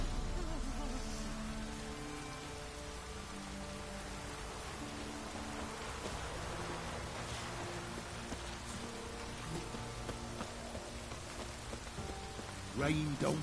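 Rain falls steadily on surfaces in the game The Witcher 3, a constant soft hiss under faint background tones, ending with a brief voice.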